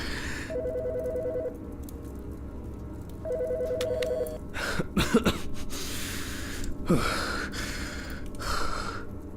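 Telephone dialing in the video game Autopsy Simulator: two bursts of steady beeping dial tones a couple of seconds apart, followed by coughs and gasping breaths.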